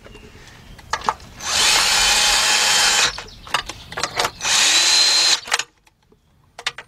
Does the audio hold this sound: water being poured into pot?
no